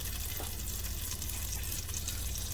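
A tablespoon of butter melts in a pan over medium heat, giving a quiet, steady sizzle and crackle that runs unbroken with no talking.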